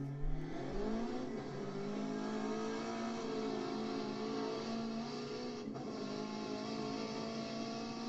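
A fifth-generation Camaro SS accelerates hard, its engine note climbing steadily through the gears, sounding somewhat distant and compressed, as if played back from a recording.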